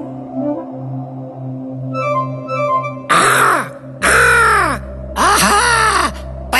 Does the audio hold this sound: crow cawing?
yes